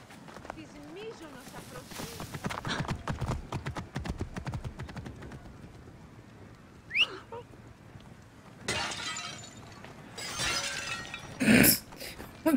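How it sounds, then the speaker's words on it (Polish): Gameplay from Assassin's Creed Origins with a horse's hooves clattering and objects crashing and shattering in bursts, heard over steady talk from a player. "Koń wszystko rozdupca."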